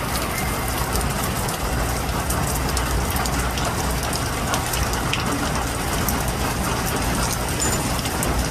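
Rain from Hurricane Zeta pelting a vehicle on the Mississippi River near New Orleans, a loud, steady hiss of dense drops drumming on the surface with faint mechanical clicking underneath.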